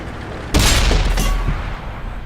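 A single loud, close tank cannon shot in a tank combat video game fired at a Super Pershing, a sharp blast followed by a rolling boom and a decaying rumble.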